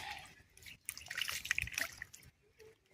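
Water from a tap drips and splashes while fruit is rinsed outdoors: faint, irregular droplets and a short trickling burst in the middle, with no talking.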